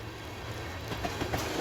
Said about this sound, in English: Now this is a lot more diverse train.